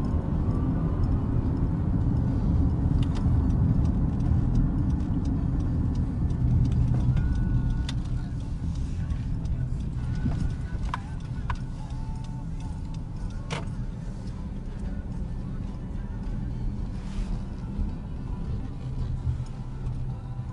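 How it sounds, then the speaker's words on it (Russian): A car drives along roads in South Dakota, a steady low engine and road rumble running throughout with a few faint ticks and clicks inside the cabin, no talk over it. "Остановились на знак стоп и едем"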